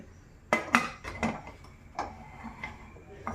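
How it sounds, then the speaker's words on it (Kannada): A metal pressure cooker lid being fitted and closed over jackfruit curry, a handful of sharp clinks and clacks spaced irregularly, close and fairly faint, with no talking. "ಕುಕ್ಕರ್ ಮುಚ್ಚಳ ಮುಚ್ಚಿ"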